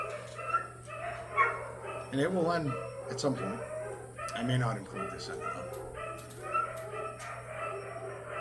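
Five pet dogs howl together in a drawn-out chorus, wavering cries rising and falling at moderate distance while someone talks over them.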